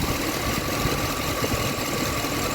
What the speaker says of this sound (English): Let's create a misfire with the cylinder 5